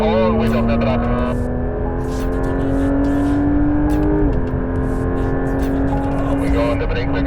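A Porsche GT3 RS accelerating out of a corner on a race track, its engine note climbing steadily in a loud, sustained drone with a brief dip at a gear change, while someone talks over it.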